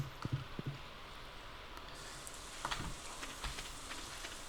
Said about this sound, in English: It's another thunderstorm day.